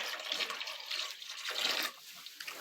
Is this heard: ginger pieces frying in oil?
no